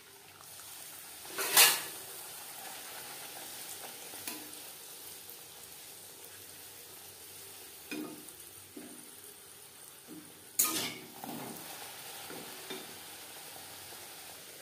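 Luchi, a whole-wheat flatbread, frying in hot oil: a steady soft sizzle runs throughout, broken by a few sharp bursts of crackle and splatter as dough is added or stirred, close and fairly quiet.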